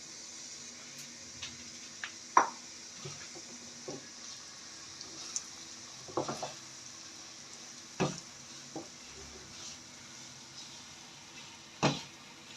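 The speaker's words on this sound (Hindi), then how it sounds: "इसको आस्ता आस्ता भूनेंगे मीडियम फ्लेम में।" Semolina roasts in hot ghee over a medium flame, giving a soft, steady sizzle, with scattered clinks and scrapes of stirring close by and no talk.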